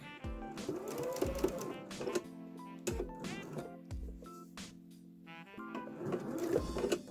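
A sewing machine stitches fabric right up to a pin, its motor whirring in short runs and one longer steady burst, with brief pauses, fairly close and alone without talk.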